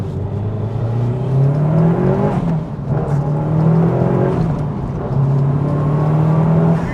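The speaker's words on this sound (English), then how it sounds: "listen to the turbo sounds" A turbocharged Mitsubishi Lancer Evolution VI RS engine revs hard and pulls through its five gears, loud and close, its pitch climbing and dropping between shifts with no talking.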